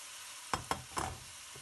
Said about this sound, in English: you add the meat, the diced meat.